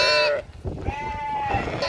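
Sheep bleat outdoors in a village flock: one loud close bleat followed by a longer wavering bleat and another starting at the end, over light background noise.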